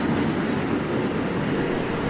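A New York City subway G train rolling between Brooklyn stations, heard from inside as a steady, loud broadband rumble with no breaks or distinct clacks over the whole stretch.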